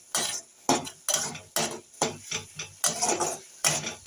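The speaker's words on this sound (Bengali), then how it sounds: "আরও আমি নেড়ে দেবো" Ground spices are stirred in a pan with a spoon in about eight regular, close scraping strokes, each a short gritty sweep followed by a brief pause.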